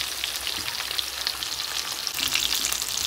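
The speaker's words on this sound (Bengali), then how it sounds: "তো মাছ ভাজা হয়ে গেছে, নামিয়ে নেব" Fish frying in hot oil in a pan, a steady dense crackling sizzle that carries on without a break, close and fairly loud, with no one talking.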